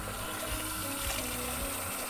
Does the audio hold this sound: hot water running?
yes